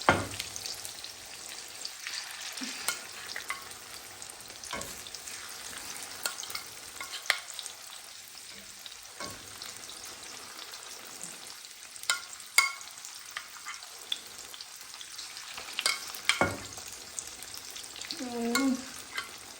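Chicken pieces frying and sizzling in a pan for kung pao chicken, a steady moderate sizzle with occasional stirring clatter and louder bursts, no talking.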